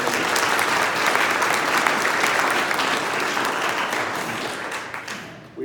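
Audience at a committee meeting applauds for the representatives, a dense sustained wave of clapping from a crowd indoors, fading slightly toward the end.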